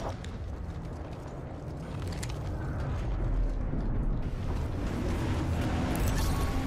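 Steady heavy rumble of an approaching dropship in Apex Legends, a dense mechanical roar with creaks and clanks that swells slightly and holds near and loud, without speech.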